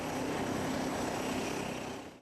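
Air force jet aircraft at an air base readying for takeoff, a loud, steady broadband engine roar filling the clip before fading out at the end.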